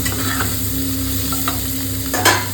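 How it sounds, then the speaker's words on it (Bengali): Food fries in a pan on a home kitchen stove with a continuous sizzle while a utensil stirs it in light scraping strokes, under the steady drone of an exhaust fan. "মোটামুটি ভাজা হয়ে গেছে, এবার তুলে রেখে দেবো"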